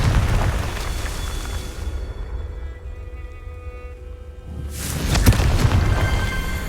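A Confringo fire spell blasts in Hogwarts Legacy: a loud, roaring burst that fades to a low hush, then a second heavy explosion erupts about five seconds later.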